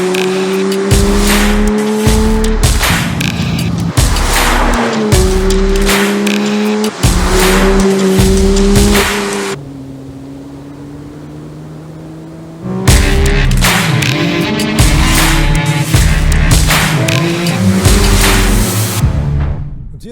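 A new 2025 Porsche 911 GT3 with touring package drives hard, engine rising through loud gear-by-gear pulls with a brief quieter lull in the middle before another strong acceleration run.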